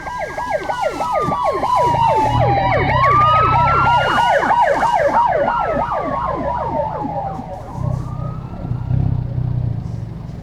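A loud ambulance siren wails close by, rapid yelping sweeps alternating with slower rising and falling tones over a low engine rumble.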